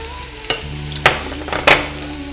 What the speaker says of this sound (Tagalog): At konting sibuyas. Hati. Ayan. Igisa natin to.